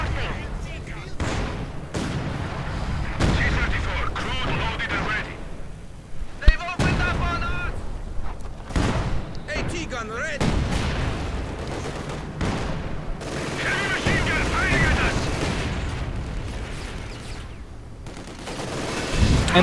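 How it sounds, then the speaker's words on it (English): Gunfire and armor-piercing rounds striking a T-34 tank in a strategy video game, with repeated shots and impacts under commentary throughout. "Oh, armor-piercing rounds there, got the T-34."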